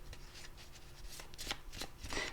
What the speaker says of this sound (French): j'ai besoin de recouvrir quelques cartes